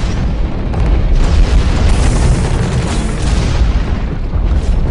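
A mech in the game Hawken takes incoming fire, a loud, continuous rumble of booming impacts and explosions pounding close by, swelling slightly in waves without any break.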